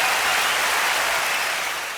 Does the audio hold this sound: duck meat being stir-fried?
no